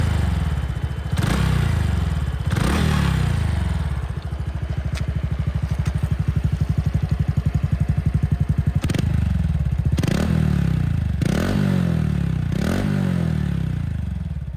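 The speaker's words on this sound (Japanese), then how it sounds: "マフラーはビームスのキャブトンマフラーを使っています。" A Honda Super Cub with an aftermarket Beams Cabton muffler runs close by. Its loud single-cylinder putter is blipped into several revving bursts, and clunks and scrapes sound between the revs.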